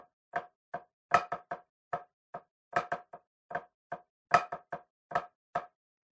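Slow drum rudiment exercise, a hybrid paradiddle with flams, struck on a snare-like drum: crisp, close hits in a measured, uneven grouping with accented flammed strokes standing out against silence.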